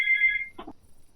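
A telephone gives one short electronic trill close by, then stops. A faint low sound follows and the room goes quiet.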